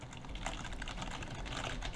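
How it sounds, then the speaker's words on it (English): Typing on a computer keyboard captured by a streaming microphone: a dense, continuous clatter of keystrokes, close and loud, running without pause and with no voice over it. "if I start typing, it might appear to be pretty loud"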